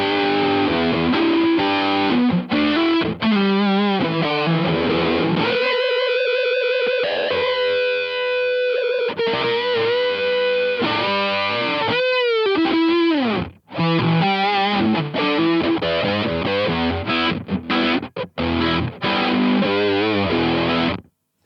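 Electric guitar through a Zoom G1Four multi-effects pedal set to a vintage flanger, distorted riffs and sustained notes with sweeping, metallic swirls, loud and continuous with no talk.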